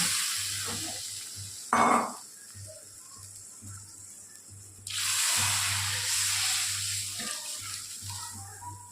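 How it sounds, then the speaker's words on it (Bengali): Water poured into a pan of simmering fish curry sets off a sudden, loud hissing sizzle that lingers and slowly fades, after a soft clatter and faint kitchen noises. "এবার আমি এর মধ্যে জল দিয়ে দেবো।"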